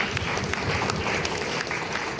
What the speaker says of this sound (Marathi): अरुणजींसाठी एकदा जोरदार टाळ्या.